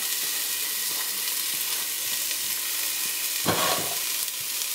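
Celery and green peppers hit a hot pan for shrimp creole, giving a steady broadband sizzle with a brief stir-and-scrape burst near the end; no talk.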